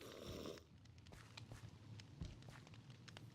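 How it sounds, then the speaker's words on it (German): A dog snoring softly in the background during a game stream, a faint rhythmic rasping breath under low room noise. "Das ist das nicht dein Hund, der schnarcht?"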